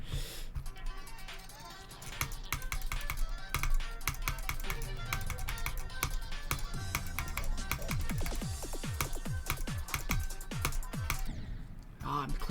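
Rapid keyboard and mouse clicking during a game comes as fast, close clicks in irregular runs, with a voice talking over them and game sounds underneath.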